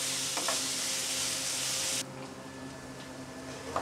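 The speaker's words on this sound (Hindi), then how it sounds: "इसको हमें पहले फ्राई करना है, भूनना है प्याज को हल्का सा लाइट ब्राउन कलर आने तक" Chopped onion and green chilli frying in a pan until light brown, a loud steady hiss that drops abruptly to a quieter sizzle midway, with faint stirring clicks and no speech.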